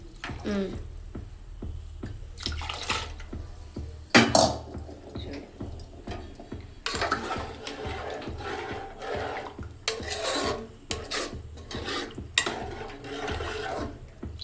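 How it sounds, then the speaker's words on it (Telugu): Boiled goat trotter broth from a pressure cooker is poured into a pan of cooked tamarind and tomato, making bursts of close liquid splashing and sloshing with scattered clatter. "మనం కుక్కర్లో కాళ్ళు ఉడికించిన రసం ఇందులో పోసేస్తున్నాం"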